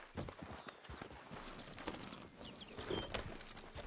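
Horse hooves clip-clop steadily at a walking pace across the ground in a Western-style video game, with a busy mix of footfalls, faint birdsong and ambient rustle layered throughout.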